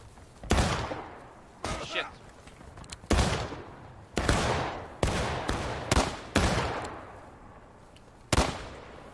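Musket fire in War of Rights comes as a ragged string of sharp, loud cracks spaced unevenly over several seconds, each trailing a brief rumble, with voices faintly heard between shots.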